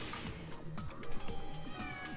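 A cat meows several times in a short sequence, close and fairly clear, over low background noise.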